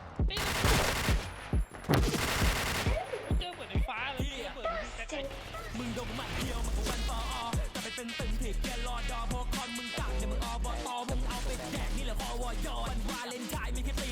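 Gunfire in the Point Blank shooter game, with rapid bursts and single shots from automatic weapons, plus game sounds and background music. Loud, dense exchanges run throughout, with a player's voice talking over them.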